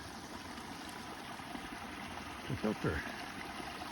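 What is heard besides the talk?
flowing brook water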